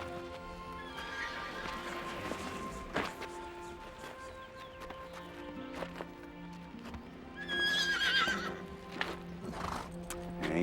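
A mare neighs in a high, wavering whinny amid hooves clip-clopping at a slow walking pace, the hoofbeats irregular and close, the whinny rising loudest toward the end.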